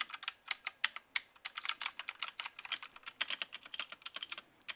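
Fast, close clacking of keystrokes on a Redragon VARA K551 mechanical gaming keyboard, an uneven but continuous patter of crisp clicks with no talking.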